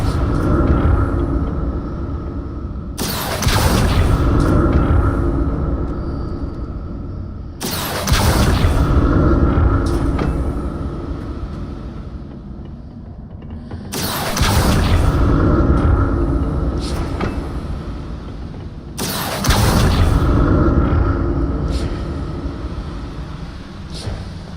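A heavy stone platform grinds across a bridge in Hogwarts Legacy, a low rumbling scrape that surges loudly in four separate pushes with quieter stretches of ambient drone between them.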